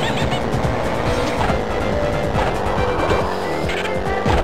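Continuous racing engine drone with repeated tire squeals and skids from the Lego Racers video game, loud and busy throughout with no talk over it.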